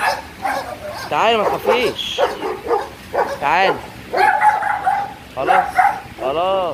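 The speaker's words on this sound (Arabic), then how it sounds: "الكلب لما يكون ساكت ويتكلم مره واحده" Dog barking and yipping in quick bursts at close range, some sharp and rising, mixed with whimpering, while a person talks over it throughout.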